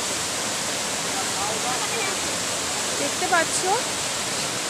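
Sita Falls near Ranchi roars as a steady, even rush of falling water that fills the scene, while a person speaks briefly near the end.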